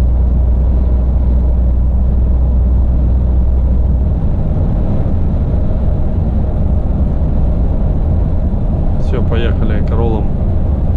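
A car climbing a hill under throttle gives a steady loud engine drone and road rumble with a low hum throughout, and a brief high whine or squeak near the end.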